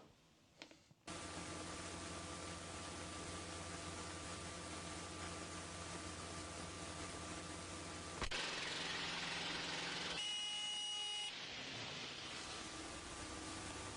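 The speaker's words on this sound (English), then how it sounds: "that's like a catastrophic engine failure, I feel like" A failing aircraft engine with its propeller windmilling, heard as a steady loud droning roar with strong tonal hum that holds for about thirteen seconds, then surges briefly with a shrill whine before easing back.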